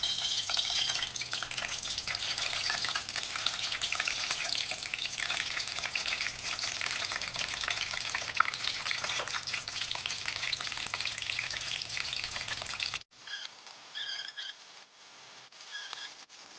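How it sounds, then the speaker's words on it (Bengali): Cut pointed gourd pieces fry in hot oil in a wok, a loud, steady sizzle and crackle running unbroken for several seconds before dropping abruptly to a quieter, thinner hiss. "কেটে রাখা পটলগুলো ভাজার জন্য আমি কড়াইতে তেল দিয়ে দিলাম।"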